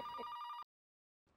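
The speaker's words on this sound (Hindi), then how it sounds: "ओ, किस गधे का फोन आ गया?" A telephone bell rings in a short bright burst that cuts off, then starts again after a brief silence, loud and close, with no voices.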